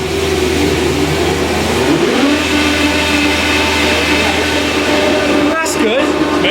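A BMW E30 M3 fitted with an S65 engine and a Drenth sequential gearbox drives along, its engine a loud, steady mid-pitched drone with a brief gear-change dip near the end and a voice speaking over it.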